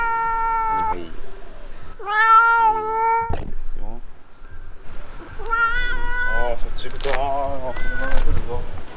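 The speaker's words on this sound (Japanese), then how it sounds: "猫ちゃんがお話をしてましたね。" Cat on a street in Chiang Mai's old city, Thailand, meowing repeatedly in drawn-out, chatty calls, close and clear, with people talking around it.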